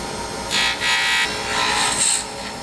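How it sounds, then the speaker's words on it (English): A 3/4 inch roughing gouge cuts a pen blank spinning on a lathe, giving repeated close, raspy scraping bursts over a steady motor hum. "Start out with a 3/4 inch roughing gouge."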